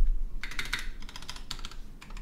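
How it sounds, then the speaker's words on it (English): Quick typing on an HBCP computer keyboard produces close bursts of crisp clacking keystrokes in several rapid clusters separated by brief pauses. "let's try to get a real quick typing test in"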